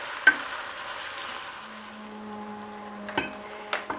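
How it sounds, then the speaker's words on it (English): Onions sautéing in a pot for a salted codfish and potato stew give a steady, fairly quiet sizzle, broken by a few sharp utensil clicks near the start and toward the end. "Okay, the onions sauteed 3 minutes."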